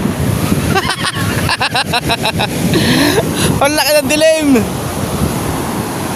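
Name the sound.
strong wind and big ocean waves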